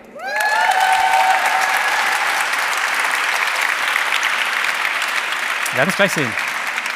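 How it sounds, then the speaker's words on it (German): A live audience gives a poetry slam performer a hearty round of applause as he comes on stage. The loud, steady clapping fills the room while a presenter speaks over it, and a voice briefly cuts through near the end. "Wir begrüßen mit einem kräftigen Applaus den dritten Slammer des heutigen Abends."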